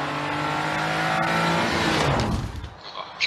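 A new-model Toyota Yaris rally car on a gravel or tarmac rally stage roars past loud and close, engine note sweeping then fading away into the distance.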